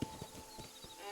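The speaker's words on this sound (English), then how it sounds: "Segurar o cavalo." Horse hooves in the Red Dead Redemption video game, a few soft clip-clop thuds close by over a low, steady game ambience with a faint tone.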